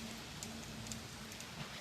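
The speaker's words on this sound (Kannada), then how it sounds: "ಹೆವಿ ಮಳೆ ಸ್ಟಾರ್ಟ್ ಆಯ್ತು." Heavy rain falling on a stop during a road trip, heard as a faint, steady hiss with scattered drop patter over a very short stretch.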